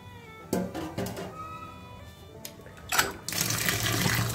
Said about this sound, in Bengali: ঠান্ডা জল দিয়ে দিলাম